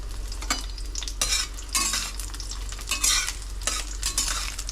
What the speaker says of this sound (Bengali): এখন আমি দেখুন রসুনটাকে দিয়ে দেবো আগে। এই দেখুন, তার সঙ্গে শুকনো লঙ্কা দুটোকে দিয়ে দেবো।